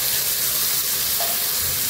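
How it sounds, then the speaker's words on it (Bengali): Ground spices and cumin sautéing in a pan over fried onions in a village kitchen, a loud, steady, close sizzle and frying hiss throughout with no talking. "তো মশলাটা আমি ভালো করে কষিয়ে নিই।"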